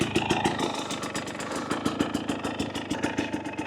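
A 2024 Husqvarna TE250 TBI dirt bike with an FMF Turbine Core 2.1 exhaust idles nearby with a quick, uneven putter, occasionally faltering in weak little sputters.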